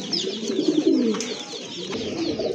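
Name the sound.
male pigeon cooing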